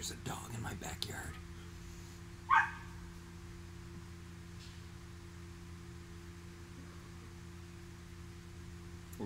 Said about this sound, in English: There's a dog in my backyard.